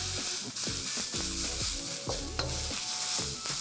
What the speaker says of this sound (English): Just keep stir frying a few minutes until you get that cabbage and the carrot wilting a little